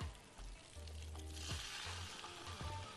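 Beef pieces sear in hot butter in a pan with a steady, close crackling sizzle, dense and continuous with little variation.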